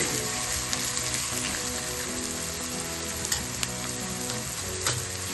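Salted chopped radish being stirred and fried in a pan, a dense continuous sizzle up close with light scraping of the spoon throughout, no voices.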